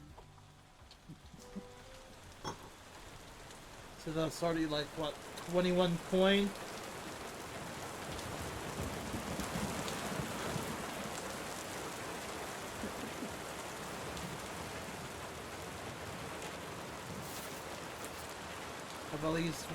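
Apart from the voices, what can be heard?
rain and thunder in the video game Chroniclers Tavern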